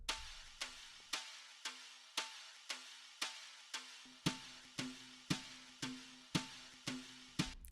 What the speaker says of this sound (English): that drum loop has the brush when they brush on the snare